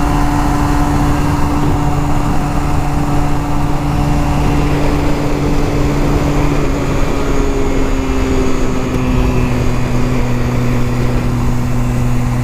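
Steady drone of a Honda Rebel 250 motorcycle cruising at highway speed, engine hum mixed with heavy wind rush, continuous and loud with a slight pitch shift partway through and no talking.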